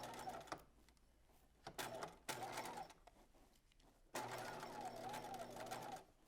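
A sewing machine stitches the short end of a 1950s circle skirt in three bursts, two brief and one longer sustained run, with quiet pauses between.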